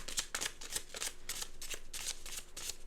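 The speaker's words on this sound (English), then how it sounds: "So I'm just gonna keep shuffling until a card comes out." A deck of cards being shuffled by hand, a steady run of quick riffling flutters and soft slaps, close and continuous with no talk.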